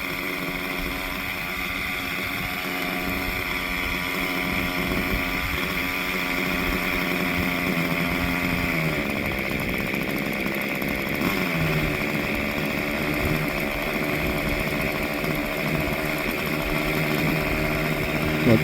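A 1980s-era German nitro RC helicopter engine runs steadily and loudly up close, a buzzing, droning tone that holds for the whole stretch with a couple of pitch shifts midway.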